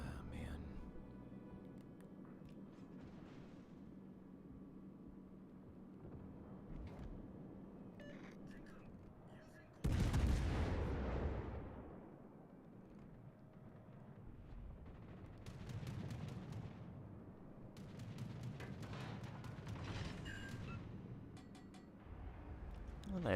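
A World of Warships naval gunfire strike lands on an enemy ship with a sudden loud blast, followed by further booming shots and a rumbling wash over quieter battle ambience, with sparse talk around it.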